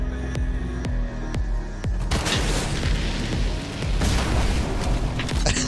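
A gas can exploding after being shot in the Fortnite video game: a loud booming blast with a rumbling, crackling tail that stays heavy to the end, preceded by a few sharp shot-like pops.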